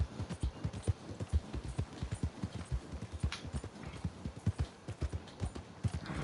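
Horse hooves clip-clop steadily at a walking pace in Red Dead Redemption 2, a faint, rhythmic series of soft thuds with no voices over them.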